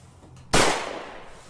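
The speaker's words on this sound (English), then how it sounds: "I thought I heard a gunshot" A single sharp gunshot cracks out suddenly after quiet and decays into a short echoing tail indoors.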